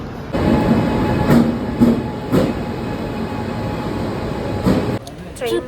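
A train rolls past a railway platform nearby, its wheels thudding over rail joints in a regular clatter of loud knocks, with people talking near the end.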